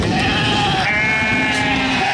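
Sheep and goats on a large livestock export farm in Kwale bleat loudly and close, several overlapping drawn-out calls layered over a busy herd background.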